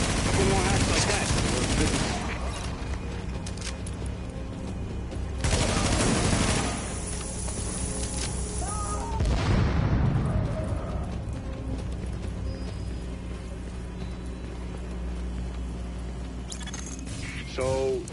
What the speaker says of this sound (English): That shooting, that was you